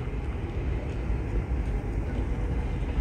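A low, continuous rumble inside a moving Sofia to Istanbul train cabin, steady and droning with a faint rattle, no voices heard.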